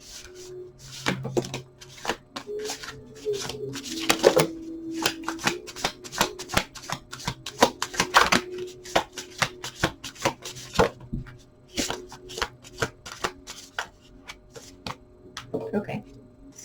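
Tarot cards are shuffled close by during a reading, a long run of crisp riffling and slapping bursts with brief pauses between them, loud and near, while a voice speaks intermittently underneath.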